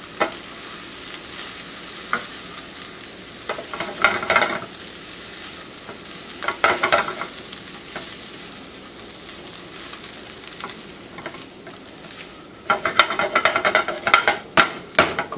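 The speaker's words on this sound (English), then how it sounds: "throw the potatoes in. And stir everything together." Potatoes for corned beef hash fry in a hot pan and get stirred, a continuous sizzle broken by scraping bursts of stirring that grow busier and louder toward the end, with no voices.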